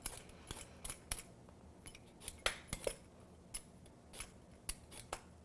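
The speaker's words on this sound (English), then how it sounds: "Just take a peeler. These, unlike a celery root, this has a softer skin and it's just easy to peel it off." A vegetable peeler strips the skin from a rutabaga in short, crisp, close strokes, giving sharp scraping clicks in an irregular rhythm over a quiet background.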